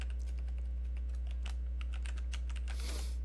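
Fingers type on a computer keyboard at a desk, a quick, uneven run of close, crisp key clicks over a low steady hum, ending in a brief louder rustle.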